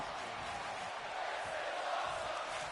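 A wrestling video game's arena crowd roars in a steady, dense wash of cheering. The noise holds at an even level throughout, with no clear individual voices standing out.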